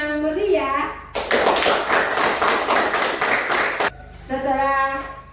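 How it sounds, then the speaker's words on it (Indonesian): Classroom audience at a religious education session breaks into a burst of lively clapping lasting a few seconds, with a voice talking before and after. "mari kita berikan tepuk tangan yang meriah"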